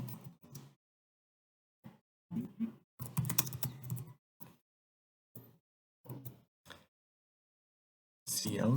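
Computer keyboard typing C++ code, quiet close-up clusters of key clicks in short irregular bursts separated by silent gaps, ending with a brief louder rustle.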